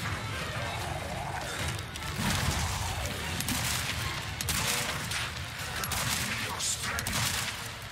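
A shotgun blasting in Resident Evil 4, heard as a chaotic spread of loud shots and crashes amid busy game noise, with a player talking now and then.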